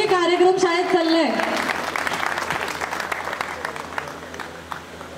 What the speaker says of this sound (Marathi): आपल्या लाडक्या सरांचा सत्कार होताना टाळ्यांचा आवाज हा झालाच पाहिजे.